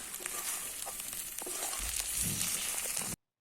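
Homemade herbal oil with leaves and hibiscus flowers bubbles and sizzles over high heat while being stirred, giving a continuous close frying hiss with soft scraping and a low rumble before it cuts off abruptly.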